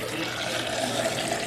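Water runs steadily from an alkaline water faucet in a home kitchen, a continuous close splashing stream with no break and no talking.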